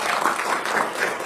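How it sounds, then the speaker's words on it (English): An audience at a tech security symposium applauds a keynote speaker, a dense, even burst of many hands clapping at close, fairly loud level. "So let's a round of applause for Jerry Gamblin."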